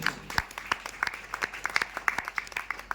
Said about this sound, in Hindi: एक बार जोरदार तालियां चाहिए स्लीपियस वेलनेस